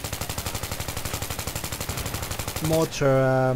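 Rapid automatic fire from an M27 rifle in Battlefield 3, a fast even stream of sharp shots close by, followed by a higher tonal game sound as the burst ends.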